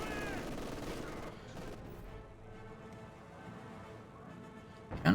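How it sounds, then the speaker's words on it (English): Gunfire rattles through a head-on assault in the strategy game Company of Heroes 2, a dense steady clatter of shots and distant explosions under a layered battle din, ending with a louder burst. "Now there's head on assault here by HeartlessJaeger."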